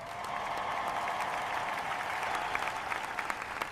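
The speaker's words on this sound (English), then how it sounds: "Please give a thunderous round of applause to all our dedicated runners." Applause from a crowd at a race award ceremony honoring runners, a steady dense wash of clapping held at an even level throughout, with a few sharper individual claps standing out near the end.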